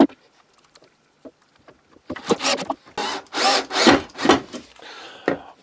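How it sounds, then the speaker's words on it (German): A power drill bores fastening holes into wood for screws: faint clicks and handling noises at first, then several loud, short drilling bursts in quick succession. "Zur Befestigung bohre ich jetzt hier Löcher rein."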